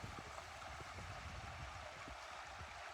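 Water flows out of Pulltite Spring into the Current River, a soft and steady rushing hiss with faint low gurgles, heard alone at a distance and fairly quiet.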